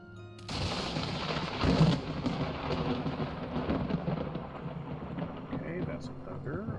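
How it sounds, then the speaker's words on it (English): Thunder in the modded video game Vintage Story, a sudden crack followed by a long rolling rumble that fades out slowly, with light rain-like hiss underneath and people talking over it. "Okay, that's a thunder."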